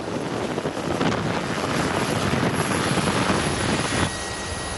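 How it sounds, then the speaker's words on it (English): A helicopter flies over high mountain peaks, a loud, continuous roaring rotor and engine wash mixed with wind buffeting the microphone, holding steady before easing slightly near the end, with no voices. "The chopper ride over high peaks is only the beginning of the adventure."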